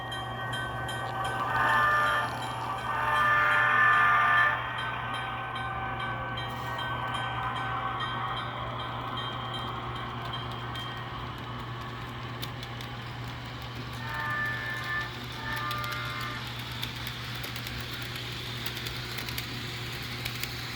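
An HO scale Rapido CN FP9A model diesel locomotive with DCC sound runs, producing a steady low engine drone with a faint constant whine; two louder horn-like blasts sound early and a shorter one later.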